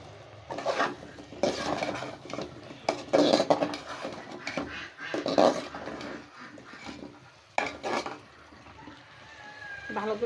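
Whole Bogura potatoes go into a pan of well-fried masala for a tomato-potato rita fish curry, making a run of close clattering and scraping bursts of pot and spoon, with wet stirring in between.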